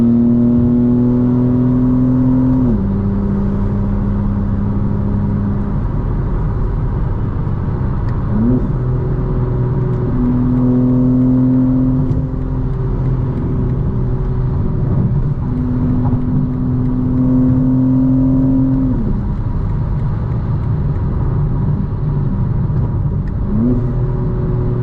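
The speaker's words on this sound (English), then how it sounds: "Full throttle." A 2025 BMW M4 Competition xDrive accelerates hard at full throttle, its engine note climbing through several gears with distinct upshift steps, loud and sustained from a close in-car position.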